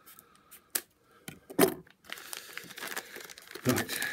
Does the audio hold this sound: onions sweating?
no